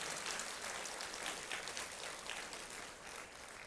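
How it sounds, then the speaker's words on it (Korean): A church congregation at a prayer meeting claps together in thanks, a steady, fairly faint patter of many hands that fades slightly toward the end. "우리 하나님께 감사의 박수 올려주시면 좋겠습니다."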